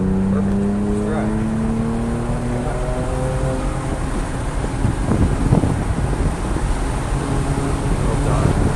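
Car driving on a wet race track during a track session, with a steady engine drone and rising gear tones, broadband spray-like noise, and a voice talking over it.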